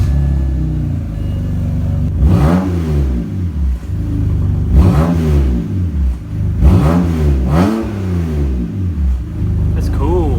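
BMW engine with a muffler-delete exhaust, heard as three strong revs that rise and fall over a steady loud idle rumble, close up, with a voice speaking briefly near the end.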